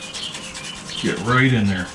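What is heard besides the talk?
hands rubbing dry seasoning rub onto whole suckling pig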